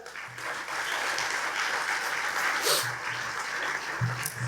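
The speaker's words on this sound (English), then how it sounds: "So you can applaud to both of them as well" Applause at a gala dinner of a smart mobility summit fills the room, a steady, moderately loud wash of clapping from many hands with a few low thumps and stray voices beneath.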